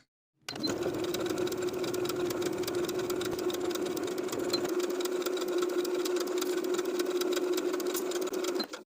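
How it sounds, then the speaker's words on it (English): Sewing machine edge stitching a rolled hem on a colorblock top, a steady close mechanical whir running continuously for several seconds before stopping abruptly, no voices. "Now I'm ready to edge stitch in place all the way around, sewing with about 1/8 of an inch seam allowance from the upper inner fold"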